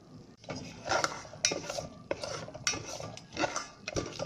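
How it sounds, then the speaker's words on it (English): Whole spices fry in hot ghee in a pan, with a soft sizzle under the repeated scrape and clink of a spoon stirring against the metal. The sound is close and fairly quiet, in irregular strokes. "put the ghee in the pan and heat it for 2 to 3 minutes. After it's heated, put all the spices and fry it."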